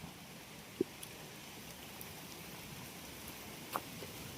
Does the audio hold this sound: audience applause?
no